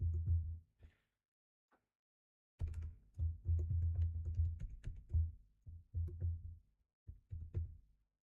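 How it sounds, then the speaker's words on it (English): Password entry on a computer keyboard, a short isolated tap or two, then a pause, then a rapid close run of key clicks in uneven bursts, quiet and without speech. "I need to type my password"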